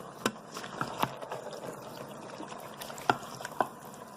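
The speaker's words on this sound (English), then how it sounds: "you can see it's boiling a little bit because it's still on saute mode" Green beans and sausage bubble in an Instant Pot on sauté mode, a soft steady simmer with a few sharper pops and splashes standing out, fairly quiet and close.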